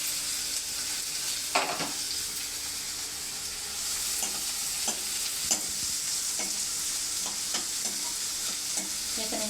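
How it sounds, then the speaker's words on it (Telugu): Onions and green chillies fry in hot oil, giving a continuous bright sizzle, while a utensil scrapes and clicks against the pan at irregular intervals. The sizzle is close and fairly quiet, with no talking. "నూనె అయితే తాగింది. ఉల్లిపాయలు పచ్చిమిర్చి వేస్తున్నాను."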